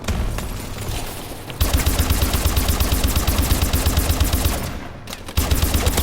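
Sustained rapid automatic fire from the Ohm weapon in Call of Duty Advanced Warfare, loud and close, with a short lull near the start and a brief break near the end before firing resumes.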